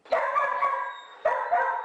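Several dogs seized and now in care at the Humane Society of Northeast Iowa animal shelter bark in two loud, sustained bursts, close by, with no talking.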